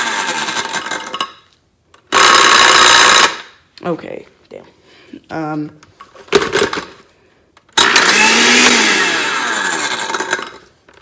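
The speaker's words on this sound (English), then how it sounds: "I'm gonna blend the hell out of this thing." A blender whirs in loud bursts, grinding an iPhone 5s with rattling and clattering, stopping and starting between short remarks from a person.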